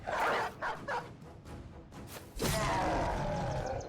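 Dogs barking in the video game Battle Brothers, a rapid run of close, loud barks and yips with short gaps, then a denser burst of overlapping barking and snarling near the end.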